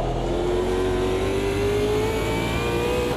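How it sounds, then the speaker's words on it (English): A race car engine in the Automobilista 2 racing game, driven with a manual gearbox and pushed hard, revs steadily upward in a loud, continuous, close whine with no talk over it. "Trying to blow the engine"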